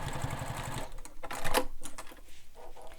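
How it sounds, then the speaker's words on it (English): A sewing machine runs a second row of stitches on a messenger bag close to its hardware, a rapid mechanical chatter in one steady burst that slows into a few lighter, spaced clicks. "I'm sewing a second row of stitches as close as I can to the hardware."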